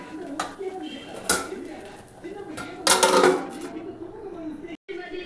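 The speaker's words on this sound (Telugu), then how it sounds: "ఒక 1-2 మినిట్స్ మూత పెట్టేద్దాం." Lid put on a pan of thick poha upma, with scattered light metallic clinks and one brief clattering burst of metal on metal in a kitchen, under a low room background.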